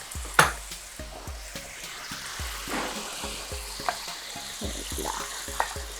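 Vegetables with soy sauce and fresh bean sprouts sizzle in a hot pan for spring roll filling, with a spatula scraping and tossing in a regular rhythm about twice per second, close and clear.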